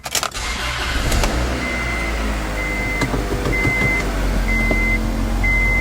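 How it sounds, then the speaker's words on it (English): A 1999 Acura 2.3 CL engine cranks briefly, catches and settles into a loud, steady idle close by. A repeated warning chime beeps over the running engine. "We're going to start our procedure by starting the vehicle."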